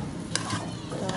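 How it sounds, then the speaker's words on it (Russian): Potatoes, zucchini and bell pepper stirred in a pan make a couple of brief scraping scuffs over a soft steady sizzle, close by, with someone talking. "Так, сейчас все помешаю."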